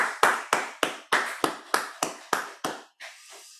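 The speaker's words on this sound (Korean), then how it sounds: "우리 영광의 박수를 하나님께 올려드립시다" Sharp, evenly spaced claps ring out about ten times in a steady rhythm during a Sunday church service, then fade into a quieter tail.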